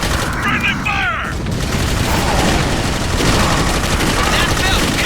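Gunfire in the video game Clive Barker's Jericho, a dense barrage of rapid shots and booms filling the whole stretch, with voices shouting over the din.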